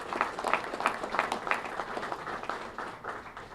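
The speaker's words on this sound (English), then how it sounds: "please give yourselves a round of applause" A community crowd at a ceremony opening a new gate at Redstone Arsenal applauds, with strong clapping at the start that gradually thins and fades.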